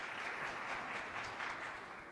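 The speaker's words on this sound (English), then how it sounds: "Please give him a warm round of applause for introducing him." Audience applause at a young leaders forum in Jeju, a dense, even patter of many hands clapping at a moderate distance, sustained without a break.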